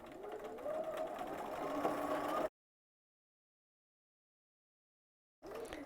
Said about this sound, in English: I'm going to sew all the way around the project.